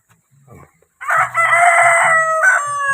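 A rooster crows loudly and close, one long strained call, preceded by a few quiet clucks and soft noises.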